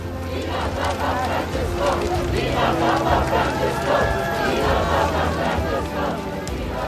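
A large crowd in traditional Slovak dress, waving yellow and white flags, cheers and shouts in welcome as Pope Francis arrives in Slovakia in 2021, a loud, steady roar under a narrating voice.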